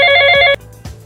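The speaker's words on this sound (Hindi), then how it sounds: "किसकी कॉल आ रही है भाई?" A telephone rings loudly with an incoming call, a steady electronic tone that cuts off after half a second, followed by faint handling sounds.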